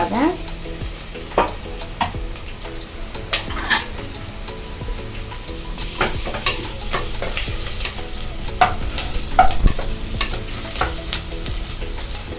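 Spiced paste for prawn biryani sizzles and fries steadily in a pan, browning, with frequent scraping stirs and soft clinks of a utensil against the metal, close and continuous with no talking.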